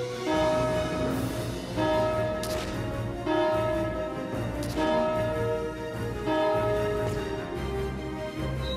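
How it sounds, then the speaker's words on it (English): A large bell in the war game Valkyria Chronicles 4 rings out in a series of loud, resonant strikes roughly every second or two, each tone ringing on and overlapping the next. "Ring the bell, Kai."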